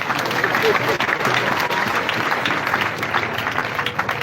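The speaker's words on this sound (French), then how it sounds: "Je vous demande d'applaudir pour les Bissa." An audience applauds steadily at a church Bible dedication ceremony in Zabré, a dense wash of clapping with crowd voices mixed in, loud and continuous throughout.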